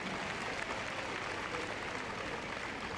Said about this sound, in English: Big round of applause for our team.